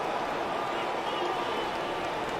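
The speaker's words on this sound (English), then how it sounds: "all the noise you can hear comes from a jubilant blue bouncing corner at Subaru" Jubilant football fans in a corner of Subaru Park stadium roar in a dense, continuous wash of crowd noise, with a commentator's voice mixed in.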